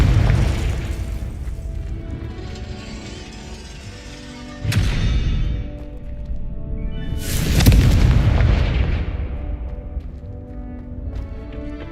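Confringo fire spell explodes twice in Hogwarts Legacy, a sharp burst followed a few seconds later by a louder, longer booming blast that rolls off over a steady game background.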